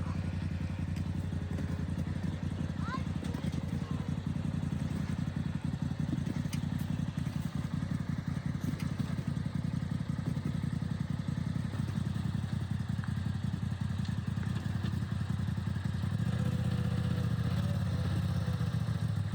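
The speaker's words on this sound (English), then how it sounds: "Let the winch catch up." A vehicle winch pulling a stuck vehicle on a snowy trail, a steady loud engine drone and mechanical whine that runs without a break and deepens near the end, with no talk.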